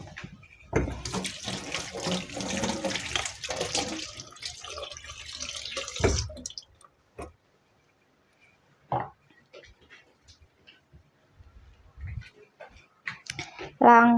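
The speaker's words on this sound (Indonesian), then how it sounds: "Nah, sekarang kita cuci dulu untuk bawang putihnya" Garlic cloves are rinsed under a running kitchen tap, water splashing steadily for several seconds, then stopping and leaving quiet handling sounds, a few light taps and drips.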